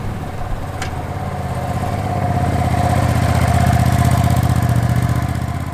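A 2025 Ducati Panigale V2S V-twin sports bike engine drones loud and close under way, its pulsing note holding steady and swelling slightly in the middle, with no talk.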